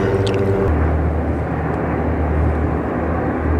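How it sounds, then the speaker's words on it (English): Loud, steady rotor-and-engine roar of helicopters passing overhead, a continuous low rumble filling the whole stretch with no voices. "Nothing but helicopters just flying by."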